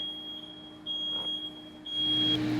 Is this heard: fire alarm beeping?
yes